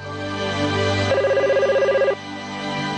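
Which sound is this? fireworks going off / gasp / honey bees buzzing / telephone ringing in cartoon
telephone ringing in cartoon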